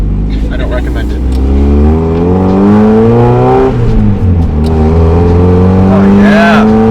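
A Mazda Miata with new spark plugs revs and accelerates while being driven, its engine note rising steadily in pitch and staying loud and close throughout, with no talk over it.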